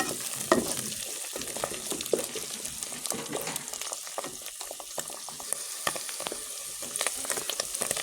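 Onion and mushrooms frying together in a pan with lemon, garlic and harissa nearby, a crackling, busy sizzle with irregular stirring scrapes, steady and moderately quiet throughout, no voices.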